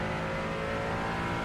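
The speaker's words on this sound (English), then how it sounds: "So slow when the LMP3s are coming through." LMP3 prototype race cars at the Red Bull Ring in the iRacing sim hum past with a steady, buzzing engine drone that holds a fairly constant pitch throughout a brief moment.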